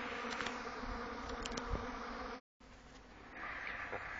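Honeybees hum steadily around hives being fed powdered milk in March, a dense continuous buzz with individual insects passing close, broken by a brief silent gap midway.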